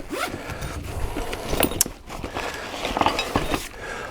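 A zipper on a Kobalt power tool bag is pulled open in several quick, close, raspy strokes, with a few soft handling noises in between.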